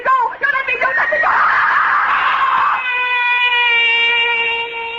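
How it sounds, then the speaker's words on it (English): A person in a radio drama screams loudly in a nightmare, the voice wavering up into a piercing, sustained shriek that settles onto a steady, held pitch. "Why am I screaming?"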